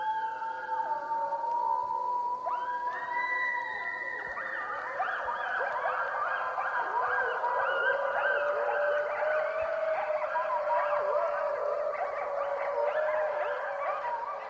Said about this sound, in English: We call this a mourn howl. It definitely descends in scale and has a very, very definitive sound of its own.